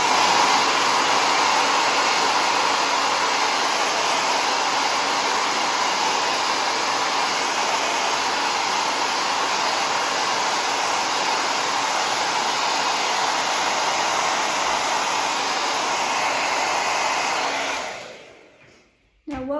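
A hair dryer blows on a freshly finished abstract painting, a loud, steady, close airy roar that holds for about eighteen seconds before switching off and dying away.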